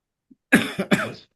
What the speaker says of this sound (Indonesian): batuk ya